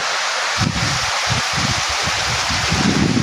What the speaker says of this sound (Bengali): অনেক জোরে জোরে বৃষ্টি শুরু হয়ে গেছে, মনে হয় না যে বৃষ্টি থামবে।